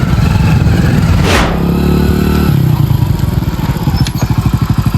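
A motorcycle engine runs close by with a steady, throbbing low rumble, a brief whoosh early on, then pulsing revs toward the end.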